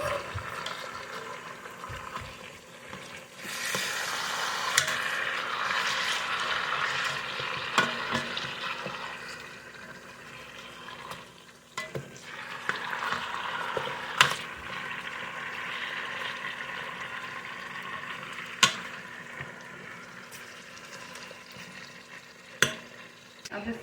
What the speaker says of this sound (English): Just browning it on all sides.